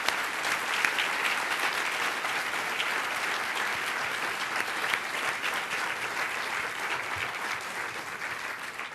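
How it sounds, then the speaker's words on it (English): Steady, sustained applause from a large audience honoring awardees at the National 4-H Council Legacy Awards Gala, a dense, even clapping that fills the hall throughout. "Let's give all of our honorees a round of applause one last time."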